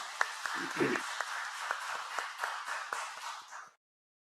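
A church congregation at a Sunday worship service gives sustained applause, a full wash of many hands clapping together with sharper individual claps standing out, ending abruptly.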